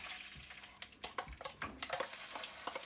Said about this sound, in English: And now I put in the bumbu.